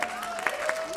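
A church congregation claps steadily for Robin, a dense patter of many hands with a voice speaking over it throughout.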